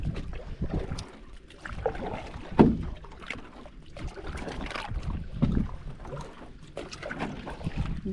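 A canoe is paddled on Ivanhoe Lake with irregular splashes and water swishes, some louder strokes standing out, mixed with wind buffeting the microphone nearby.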